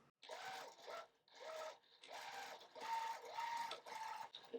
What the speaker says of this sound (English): I just had fun sewing back and forth, back and forth.